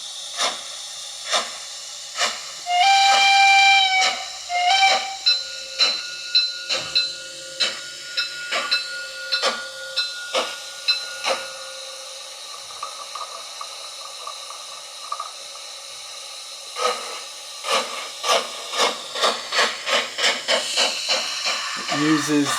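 Lenz O gauge DB Br55 model steam locomotive with a sound decoder chuffing in a steady, quickening beat, with a short whistle near the start. Hissing steam sits between the chuffs, and the rhythm resumes more densely toward the end.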